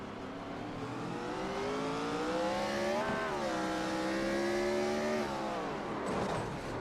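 A stock race car in iRacing at North Wilkesboro, its engine heard on board as a loud, sustained revving whine that climbs and wavers as the rear tires spin and the car slides around.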